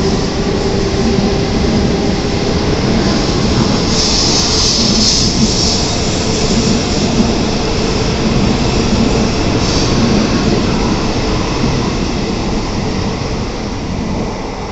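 A Shinkansen N700 series train moving through Kyoto Station, a loud, steady rolling roar with rail noise and faint brief squeals lasting throughout, with no voices.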